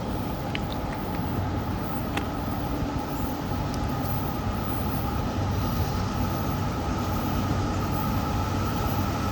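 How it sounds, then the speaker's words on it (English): A northbound auto rack freight train, M276, approaches around a curve, a steady low rumble and rolling clatter that holds throughout, with a faint click or two near the start and no one talking. "I believe that's an auto rack train"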